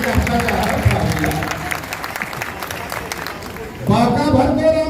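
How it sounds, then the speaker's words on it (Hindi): Audience applause at a one-day Yadav community assembly meeting in Kahalgaon, a steady crowd clapping that carries through the whole stretch and swells louder near the end, with voices mixed in. "अरे इस मनुष्य ताली तो बजा दीजिए"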